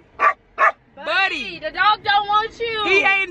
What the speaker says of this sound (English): He just gonna sit there and bark at somebody until they give him a reaction.